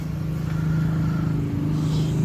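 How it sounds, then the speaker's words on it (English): A 1978 Dodge D150 pickup that sat unused for 20 years idles loudly nearby, its engine giving a steady low drone with a faint rhythmic pulse and a slight rise near the end. "We'll get some gas on this thing and see if we can get it idling"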